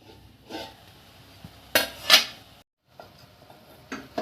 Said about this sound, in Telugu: ఒకసారి కలుపుకుంటున్నాము అంతా.